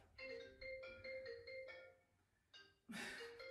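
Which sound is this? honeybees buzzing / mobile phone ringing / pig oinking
mobile phone ringing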